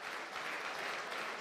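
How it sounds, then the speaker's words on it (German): Fans applaud steadily in a stadium during a preseason friendly between Fortuna Düsseldorf and VfL Bochum, a dense, even wash of distant clapping with no break. "Das gibt freundlichen Applaus von unseren Fans."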